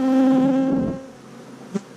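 Unusually large honeybee drones buzz inside an opened hive, a steady droning hum close by for about a second that then drops away, followed by a faint brief buzz.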